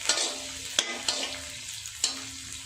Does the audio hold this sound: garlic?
yes